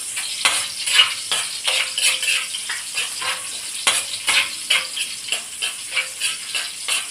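Onions being stirred and fried for pansit bihon, with a spatula scraping and clinking against the pan in irregular strokes over a soft sizzle, close and moderately loud.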